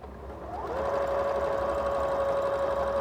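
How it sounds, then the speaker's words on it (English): A sewing machine runs a loose rickrack stitch on fabric for a quilted postcard, its motor spinning up then holding a steady, close whirring hum. "So I'm just using a rickrack stitch."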